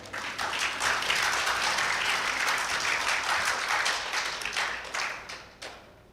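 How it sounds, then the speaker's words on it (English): Audience applause at a live mangrove-themed Jeopardy-style quiz event, sustained steady clapping from a crowd that holds for several seconds before thinning out at the end. "Please give them a round of applause."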